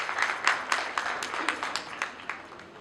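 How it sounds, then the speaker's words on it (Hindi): A crowd applauds at a State Press Club honour ceremony in Madhya Pradesh. Fairly quiet, rhythmic clapping continues throughout and fades slightly toward the end. "मैं चाहूँगा एक बार किशोर दा के लिए तालियां जोरदार हो"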